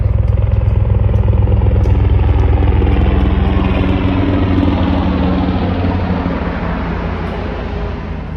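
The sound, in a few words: helicopter flying low overhead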